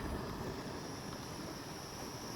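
Constant, loud wind buffeting the microphone outdoors while cooking tantuni, a broad rushing noise with no other clear sounds.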